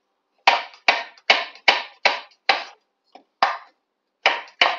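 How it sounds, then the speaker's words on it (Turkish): Mushrooms sliced thinly with a knife on a cutting board in a home kitchen, a run of about ten crisp, evenly spaced chops, close and fairly loud, with no talking. "Mantarlarımızı da ince ince dilimliyoruz."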